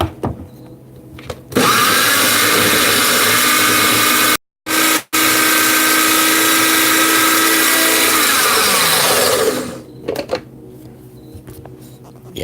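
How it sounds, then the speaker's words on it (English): Electric grinder blitzing basil pesto ingredients in a small bowl, a loud whirring motor running steadily for several seconds with a brief stop and restart, then winding down. "So let's give this another grind."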